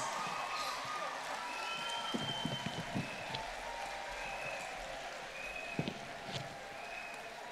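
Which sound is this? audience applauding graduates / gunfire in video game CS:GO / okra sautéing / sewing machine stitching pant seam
audience applauding graduates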